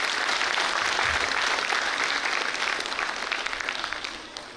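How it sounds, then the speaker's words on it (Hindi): Audience applause at a school annual day cultural program: dense, sustained clapping from a large crowd fills the whole stretch, loud at first and tapering off gently toward the end, with no speech over it. "हर परफॉर्मेंस के बाद जोरदार तालियों से जरूर स्वागत करेंगे"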